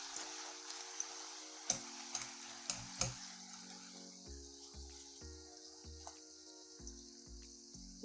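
Vada pav fritters bubble in hot oil with a soft, steady sizzle, broken by several clinks and scrapes of a utensil moving them in the pan.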